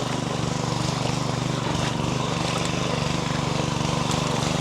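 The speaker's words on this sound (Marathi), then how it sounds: "पॉवर ट्रॅक्टर लावला आहे" A power tractor churns mud in a rice paddy with a continuous, close engine drone and a fast pulsing throb that never lets up.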